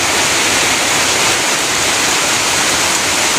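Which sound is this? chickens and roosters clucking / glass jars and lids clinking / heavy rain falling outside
heavy rain falling outside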